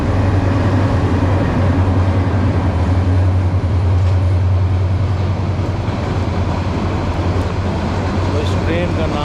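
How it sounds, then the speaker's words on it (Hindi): The Maitree Express train on the Dhaka to Kolkata run passes close by as a loud, continuous, heavy rumble of wheels and cars that holds steady throughout, with a voice faintly under it. "ये जाती है मैत्री एक्सप्रेस"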